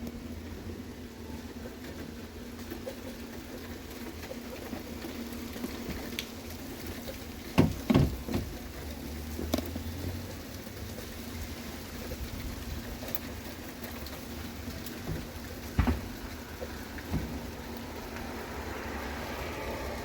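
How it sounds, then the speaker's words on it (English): A soft, steady patter of rain with a low outdoor rumble, broken by a few brief louder knocks. "Enjoy a very quick impromptu rainstorm with me."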